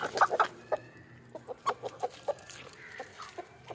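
Close native country chickens at evening bran feeding give a run of short, sharp clucks in quick bursts, then sparser single clucks with brief pauses between them.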